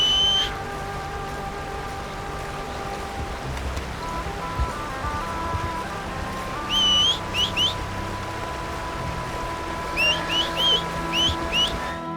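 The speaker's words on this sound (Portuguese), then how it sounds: "chamei ele de volta na base do assobio" Short, rising two-note whistles calling a horse in Red Dead Redemption 2, repeated in quick bursts twice over steady outdoor ambience and a low musical drone.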